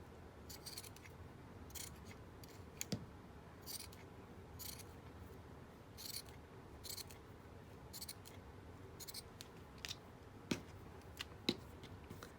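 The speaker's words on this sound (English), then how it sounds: "I'm gonna go ahead and cut the edges off here." Scissors snip along the edges of a paper or fabric piece for an ephemera craft project, giving quiet, irregular close-up cuts with a few sharper clicks over a low background hiss.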